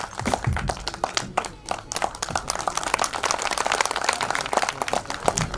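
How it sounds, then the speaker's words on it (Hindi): Sharp, uneven clapping from an audience at a film trailer launch event, individual claps standing out in a lively burst that carries on throughout. "एक बार जोरदार तालियां आजाद जी के लिए।"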